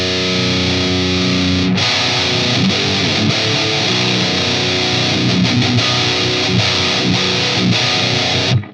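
An electric guitar runs through a Boss Metalcore ML-2 distortion pedal, loud saturated chords ringing and sustaining with a few quick changes, played alone without voices.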